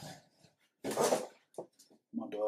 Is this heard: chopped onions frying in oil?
no